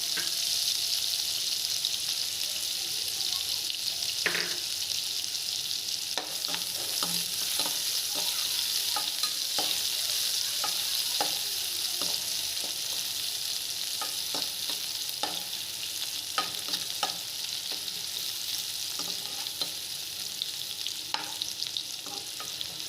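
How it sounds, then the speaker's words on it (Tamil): Steady, loud sizzling of onions frying in hot oil, with occasional clinks and scrapes of stirring, no voices. "பொடி பொடியாக நறுக்கி வச்ச வெங்காயத்தை சேர்த்துக்கலாங்க. கொஞ்சம் நேரம் நல்லா ஃப்ரை ஆகட்டும்."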